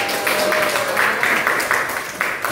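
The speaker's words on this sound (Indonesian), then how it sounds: "tepuk tangan" Students in an Arabic-language classroom give a short round of clapping in several quick, rhythmic bursts, close and fairly loud.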